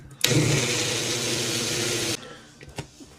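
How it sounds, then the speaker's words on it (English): A Ninja blender mixing a sauce whirs loud and close at a steady high-speed drone for about two seconds. It stops abruptly, followed by a few small clunks. "I've had this Ninja for a while. Let's go ahead and mix."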